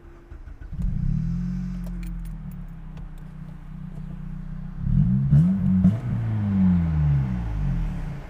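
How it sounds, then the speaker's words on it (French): A truck passes by outdoors during a walk, its low engine rumble rising and swelling in the middle, then continuing loud and steady without any talk. "Il y a un camion qui est passé"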